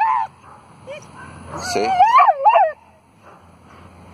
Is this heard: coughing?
no